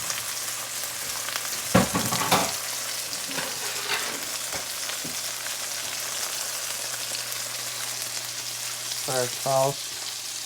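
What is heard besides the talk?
salmon pan-searing in a frying pan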